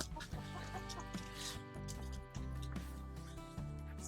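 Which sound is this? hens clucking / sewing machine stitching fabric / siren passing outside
hens clucking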